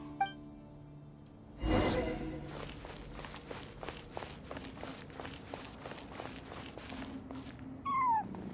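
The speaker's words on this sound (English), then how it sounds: "And so, I followed the cat's cries to find my way out." A cat in the video game Genshin Impact cries repeatedly, a steady run of short plaintive meows with a loud burst near the start, over faint game background, ending with a rising chirpy sound.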